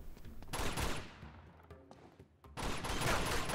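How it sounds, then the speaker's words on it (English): Gunfire in the video game Uncharted 2: Among Thieves, loud bursts of rapid shots with a short lull in the middle before the firing resumes heavily. "Who are you shooting?"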